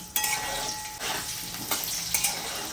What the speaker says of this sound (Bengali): আলুগুলোকেও আমি একটু ভেজে নিচ্ছি